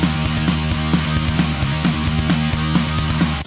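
Mock-up hard rock song with loud saturated distorted guitars, driving bass and pounding drums in a fast steady beat, dense and continuous.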